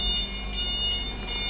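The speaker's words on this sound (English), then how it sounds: "and the backup light with a backup alarm" A new 5,000 lb dual fuel pneumatic forklift's backup alarm beeps steadily, a high, piercing tone pulsing in a regular rhythm over a low engine rumble, loud and close.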